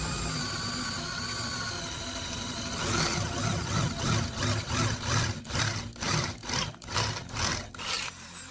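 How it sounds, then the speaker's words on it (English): A drill bores holes through a metal bracket: a steady whirring grind at first, then a run of rhythmic, pulsing bursts as the bit bites and lets off, close and fairly loud. "Now I'm drilling holes through the metal."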